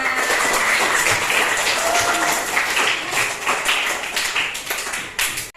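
A classroom of elementary school pupils claps hands together, a dense, steady patter of many small hands close by that thins out and stops near the end.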